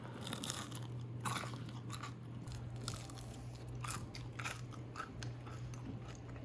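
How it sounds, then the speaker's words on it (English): Crunchy oven-baked potato fries bitten and chewed close up, a string of sharp, crackly crunches over a quiet room with a faint steady hum, no talking. "Listen to this crunch."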